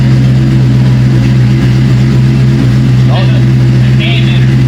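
A loud Ford Mustang SN95 engine runs steadily up close, a strong low rumble holding throughout with a brief voice heard over it near the end.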